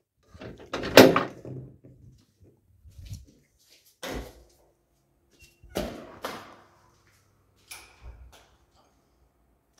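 Several separate thuds and clunks spaced a second or two apart, like a door being shut and handled, with quiet pauses between them.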